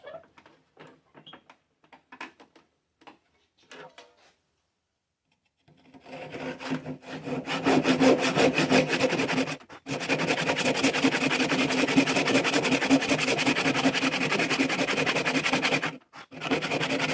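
Hand saw ripping lumber held in a bench vise into slats: a few quiet scrapes and taps, then long, steady, rasping back-and-forth strokes, loud and close, broken by one brief pause.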